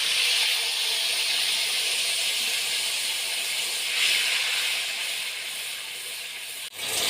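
Tomato, green chili and onion paste sizzling in a kadhai, a continuous loud hissing sizzle that holds steady throughout with a brief dip near the end.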